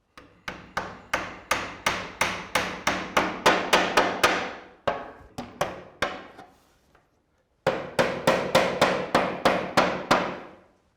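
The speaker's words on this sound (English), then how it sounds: "When you're nailing these, it's not a bad idea to put a little bit of pressure there." Nails are hammered into roof slate in quick bursts of sharp, ringing strikes, about a dozen evenly spaced blows, then a few slower taps, a pause, and another rapid run, loud and close.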